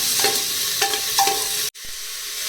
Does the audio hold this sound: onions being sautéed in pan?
yes